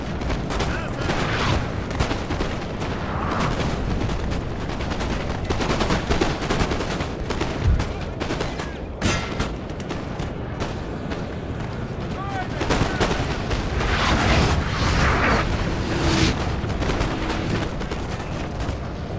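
Artillery cannon fire in a Napoleon: Total War battle booms repeatedly in dense, overlapping volleys alongside crackling musket fire, a loud, continuous barrage of battle noise heard without spoken words.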